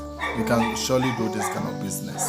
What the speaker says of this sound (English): I'm sure you can hear some dogs barking in the background